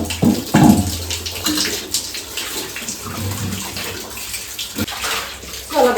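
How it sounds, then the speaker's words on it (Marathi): Windows being washed down with water at home, with running water splashing and gushing in uneven bursts, fairly close and loud, with faint background sounds. "सर्व आता खिडक्यात धुवून घेते."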